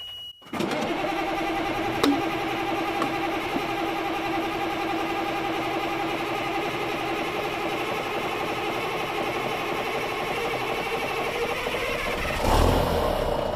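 The Alder Gulch tour truck's engine cranks and catches, then runs in a steady, uneven chugging idle with occasional pops from the stack, and it surges briefly near the end.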